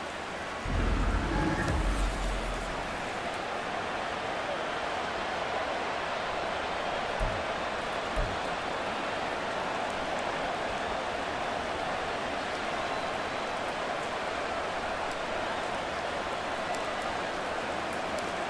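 Rain falls steadily in a Madden NFL 24 football game, a constant hiss throughout, with a deep thunder-like rumble near the start and a couple of brief low thumps later.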